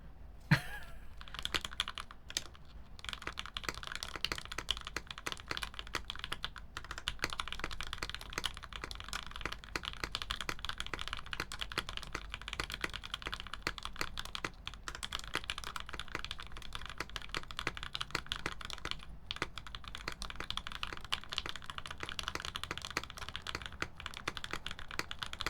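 Typing on a custom top-mount mechanical keyboard with a carbon fiber plate, fast continuous key clacks at close range, quiet and steady throughout with no voices.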